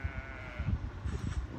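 Faint, brief sheep bleats from the Sheep Fight battle game come in short soft bursts over a low background rumble, with no talk.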